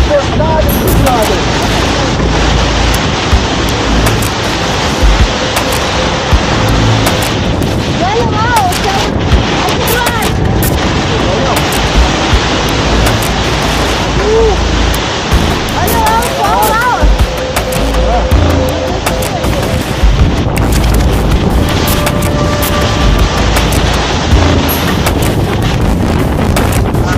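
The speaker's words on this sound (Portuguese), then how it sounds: "tô com medo da tempestade" A coastal storm at Ilha do Mel, with strong wind buffeting the microphone and waves crashing, roars loud and constant while people talk over it.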